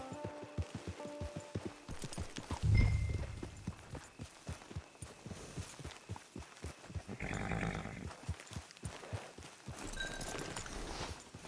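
Horse hooves clip-clop on the ground in the Red Dead Redemption Online video game world, a steady rhythmic stream of hoofbeats at moderate volume amid game ambience, with a louder thump near the start.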